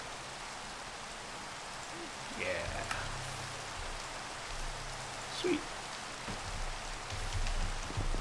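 Steady rain hisses down in a modded Minecraft Skyblock world, a constant wash of patter with occasional louder drops, as a person speaks briefly over it.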